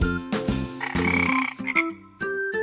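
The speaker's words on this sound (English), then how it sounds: "And here come the frogs hopping around the pond." Cartoon-style frog croaks beside a pond, a run of bright, tonal croaks in quick bursts with brief gaps, loud and close, set over musical backing with no talking.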